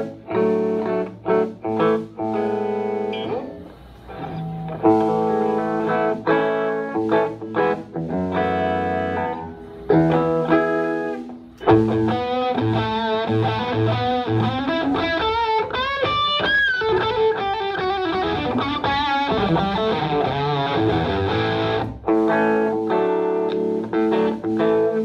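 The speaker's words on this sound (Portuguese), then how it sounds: "um som limpo e um som com distorção" A Malagoli electric guitar plays a short passage with a clean tone, then switches to a distorted, sustained sound that rings on loudly to the end.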